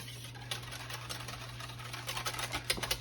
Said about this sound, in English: So we're gonna mix the egg up.